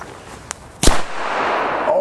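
A Bo Peep Pyro Cracker from the 1980s explodes in one loud, sharp bang after a small pop, followed by a rushing, hissing tail of echo and noise outdoors.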